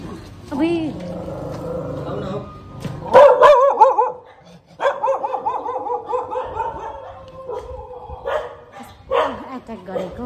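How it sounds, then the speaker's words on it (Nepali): A dog barks in loud, repeated bursts close by, with people talking over and between the barks throughout. "कुकुरले टोक्दैन"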